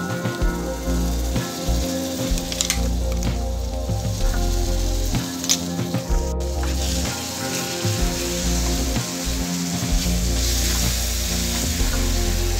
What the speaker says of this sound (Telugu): ఈ పండు మిర్చి పేస్ట్ పచ్చి వాసన పోయే వరకు ఫ్రై చేసుకోవాలి.